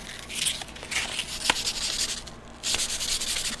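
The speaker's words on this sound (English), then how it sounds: "Also want to grab a small piece of sandpaper real quick" Small piece of sandpaper roughing up carbon fiber rods for a 3D printed and fiberglass rocket, steady close scratchy rubbing strokes in short bursts with a brief pause near the middle.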